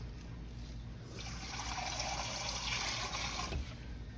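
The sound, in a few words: beef stock being poured into a cooking pot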